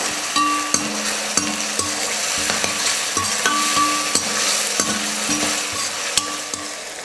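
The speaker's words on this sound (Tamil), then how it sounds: "இஞ்சி பூண்டு பேஸ்ட்டு 1 ஸ்பூன் எல்லாம் சேர்த்து நல்லா வதக்கிக்கலாம்." Onion, tomato and ginger-garlic paste sizzle in a hot pan while a spoon stirs and scrapes the bottom with repeated knocks, steady and close.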